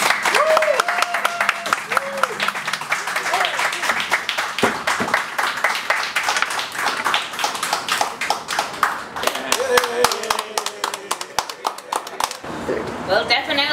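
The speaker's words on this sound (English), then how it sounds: "we want to give a great round of applause and thank you for Mr. Glen Q. Garcia" A crowd applauds a Garifuna drum maker after he finishes building a new drum. Sustained, dense clapping fills the space throughout, with a voice briefly speaking over it near the start and again toward the end.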